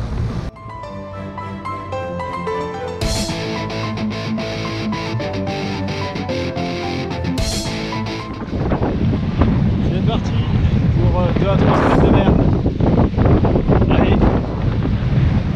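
A sailboat crosses the bay of Mindelo in strong wind under a double-reefed mainsail with its motor running. Music plays at first, then loud, steady wind buffeting and rushing water take over, close to the microphone.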